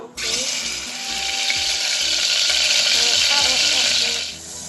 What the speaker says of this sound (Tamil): இப்போ ஆயில் சூடாகிட்டு நம்ம சிக்கனை போட்டு ஹாஃப் ஃப்ரை பண்ணி எடுத்தால் போதும்